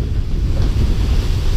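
Steady wind roars across open water aboard a sailing catamaran under its big sail in about 18 knots of breeze, with a constant low rushing and buffeting noise and wave wash and no voices.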